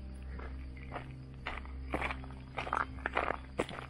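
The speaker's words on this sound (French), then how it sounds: "Juste le bruit de mes pas." Footsteps crunch along at a steady walking pace, fairly close, over a low background hum with no talking.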